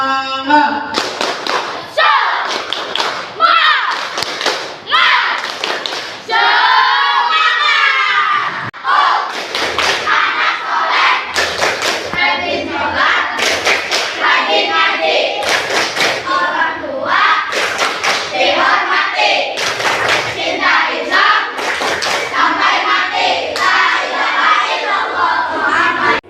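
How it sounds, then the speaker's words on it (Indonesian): A class of students claps a rhythmic spirit cheer together, sharp hand claps in a repeating patterned beat, loud and close, with a voice calling out between the claps. "Tepuk semangat."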